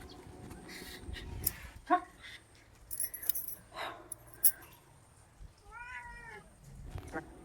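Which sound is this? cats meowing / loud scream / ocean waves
cats meowing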